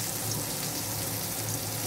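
Cumin seeds tempering in hot oil make a steady, even sizzle that holds at the same level from start to finish, with no talk over it.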